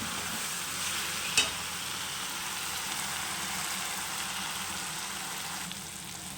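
Garam masala stirred in a frying pan, a steady soft sizzle that runs the whole time with one brief clink of the utensil early on; no talking.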